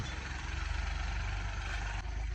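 A tractor engine idles steadily at close range, a low, even rumble with a regular throb that carries on unbroken throughout.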